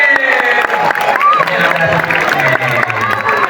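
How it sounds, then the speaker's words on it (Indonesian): Children in a school anti-bullying session clap as a group, the applause mixed with shouting and lively chatter, loud and close, with a voice rising over the noise. "Tepuk tangan dulu tempatnya."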